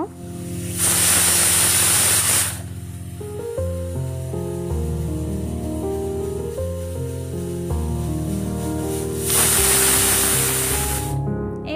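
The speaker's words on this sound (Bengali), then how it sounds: "লবণ হলুদ দিয়ে প্রেসারটাকে বন্ধ করে দিয়েছে। এবার হচ্ছে সেদ্ধ হবে এটা কিছুক্ষণের জন্য।" A closed pressure cooker of Tamil Nadu style kanji with salt and turmeric lets off two loud bursts of hissing steam, one early and one near the end, over steady background music.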